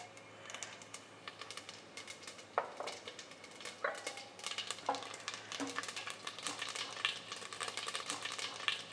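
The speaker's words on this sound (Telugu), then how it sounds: "జీలకర్ర, ఆవాలు వేస్తున్నా" Cumin and mustard seeds hit hot oil in a pan for tomato rice, giving a crackling sizzle with sharp pops and spoon scrapes, moderately faint and without talking.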